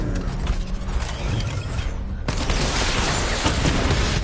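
Missile barrage firing in a PS4 video game: a dense, loud stream of rapid blasts and mechanical bursts, growing heavier and more continuous in the second half.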